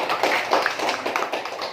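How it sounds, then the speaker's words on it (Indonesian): A classroom group claps for children who have just recited a Quranic surah, giving a quick burst of rhythmic, fairly close hand claps. "Kasih tepuk tangan dulu untuk anak-anak ya."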